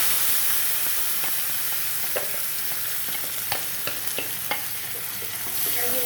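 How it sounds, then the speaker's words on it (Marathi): Ginger-garlic paste and chilli fry in hot oil for a dhaba-style paneer masala, giving a steady close sizzle with scattered scraping taps from stirring. "व्यवस्थित फ्राय करून घ्यायचे."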